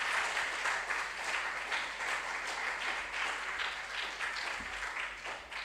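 Students and spectrators at a junior high school science and maths quiz in the Ashanti Region clap for a competing school team, a steady, full round of applause that holds evenly throughout.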